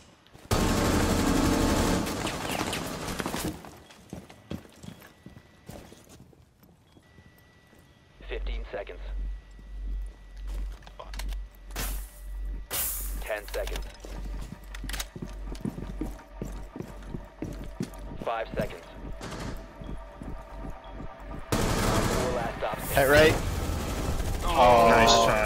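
Gunfire shot through a wall in a tactical shooter game crackles in scattered bursts and single shots, with mechanical clatter and game noise, under frequent talk from players.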